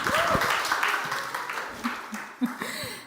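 Scattered audience clapping at a roundtable discussion, a brief patter of hands mixed with chuckles and a speaking voice, moderately close and fading out quickly.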